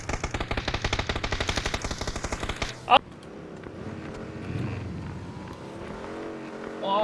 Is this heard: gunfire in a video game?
yes